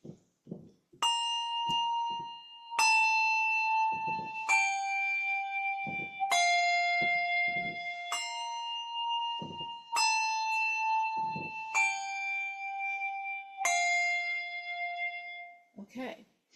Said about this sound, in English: notice that I am still ringing with my bell vertical